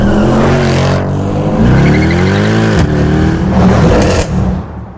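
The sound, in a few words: Mercedes-AMG car accelerating hard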